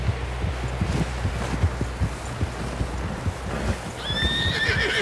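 A horse whinnies loudly near the end, after steady clopping hooves and low rumbling movement throughout, in the video game Red Dead Redemption 2.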